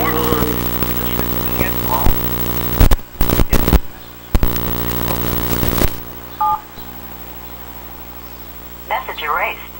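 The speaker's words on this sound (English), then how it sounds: "You have pressed an incorrect key." Telephone keypad DTMF tones pressed on a voicemail system, a few short bursts of dual-tone beeps amid line noise, a steady hum and an automated voice prompt.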